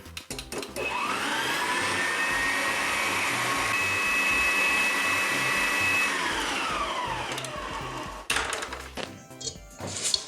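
Electric stand mixer with a beater blade mixing cookie dough, a loud steady whirring motor that runs for several seconds and then winds down, followed by a few clunks.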